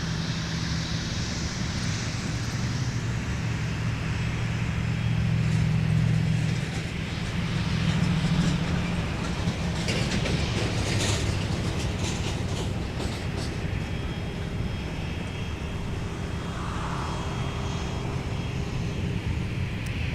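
A United airliner taxis along taxiway Whiskey at MSP airport, its engines giving off a steady broad roar and whine that holds for the whole stretch, with a faint voice briefly heard.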